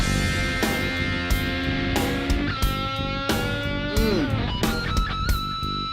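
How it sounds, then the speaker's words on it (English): Distorted electric guitar riffs with squealing pinch harmonics and bends over a driving band, loud and energetic throughout. "Pinch harmonics there, baby."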